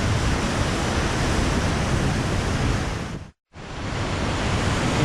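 A waterfall in Colombia roars as a loud, steady broadband rush of falling water with no voices, cutting out abruptly for a split second midway before resuming at full strength.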